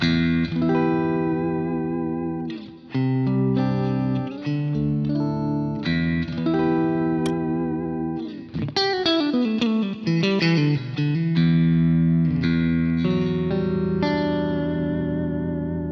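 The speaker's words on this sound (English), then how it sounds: "the first one is a sort of classic, sort of clean sound" A clean electric guitar through a Boss GT-1000 effects processor plays chords and single-note runs, bright and sustained with slight shimmer, close and alone without talking.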